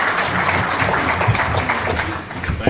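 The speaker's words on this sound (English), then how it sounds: "judges for giving a applaud for my friend and classmate Surendra" An audience applauds at a book launch event, giving a steady, dense wash of clapping from a crowd indoors for the whole stretch.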